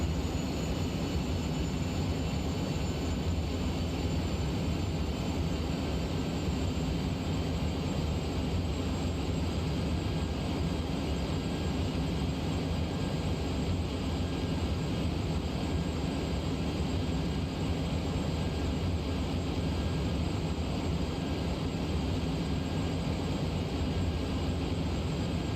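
A steady, dense roar of an aircraft engine in Kerbal Space Program, throttling up and holding a constant loud drone throughout with no voices over it.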